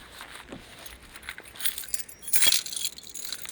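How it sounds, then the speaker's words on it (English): Old unused keys jangle and clink as they are handled to cut open a cardboard box, with scattered metallic rattles building to a louder burst of jingling near the end, close and alone without talk. "Gonna use some old keys that I don't use anymore."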